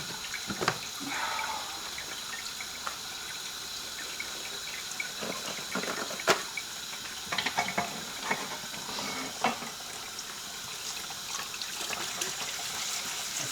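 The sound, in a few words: water running while washing cast iron after lye bath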